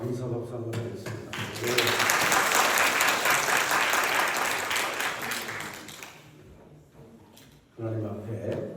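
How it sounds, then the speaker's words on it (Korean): A church congregation breaks into a long round of applause after a prayer. The clapping swells quickly and holds steady, then thins and fades out, and a voice speaks before and after it. "감사 박수 한번 하겠습니다."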